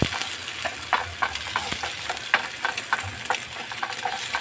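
Fried rice is stirred in a sizzling pan, with steady frying crackle and irregular scraping clicks from the spatula, close up with no talking.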